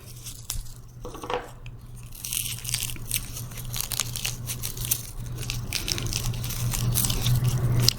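Dry, brittle crunching and crackling of dried flower stems being handled close up, in scattered bursts over a low steady hum.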